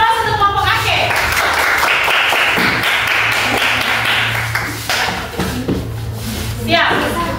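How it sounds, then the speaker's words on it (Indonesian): A classroom of students claps for a presenting group, a scattered patter of applause that is loud and near, with people speaking over it. "Ayo, berikan aplaus untuk kelompok Ake."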